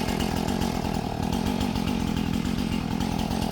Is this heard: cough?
no